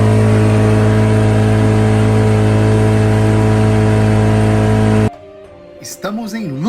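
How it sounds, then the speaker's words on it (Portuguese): A small motorboat engine crossing the Nile before dawn drones loud and steady with a strong low hum, then cuts off abruptly, leaving quieter sounds and a voice speaking. "pegamos um barquinho a motor e atravessamos para a outra margem do Rio Nilo"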